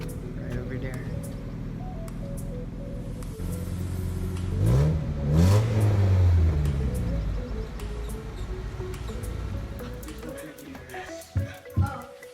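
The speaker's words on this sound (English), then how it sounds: "You can hear from far away that the MIATA has an exhaust built into it." Mazda Miata fitted with a 1.3 engine and aftermarket exhaust, revving at a distance with a rising and falling engine note over steady outdoor background noise.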